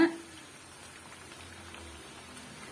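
Vada fries in hot oil at medium heat, giving a soft, steady bubbling sizzle that continues faintly and evenly from start to finish.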